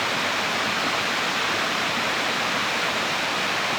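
Water streams out of a spring at Quebrada Arena in the Ngäbe-Buglé comarca, a steady, loud, broadband rushing that stays constant throughout with no voices over it.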